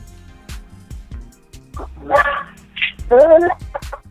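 A dog barks and whimpers with a few short yips and a longer whining call, close and fairly loud, over faint rhythmic background tapping.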